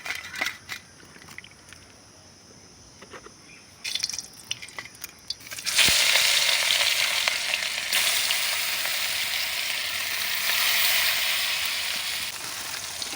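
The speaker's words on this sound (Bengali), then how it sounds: "রুই মাছের টুকরোগুলো ভেজে নেব নুন হলুদ দিয়ে" Rohu fish pieces seasoned with salt and turmeric hit hot oil after a few quiet seconds of small clicks. A loud, dense, hissing sizzle then runs steadily to the end.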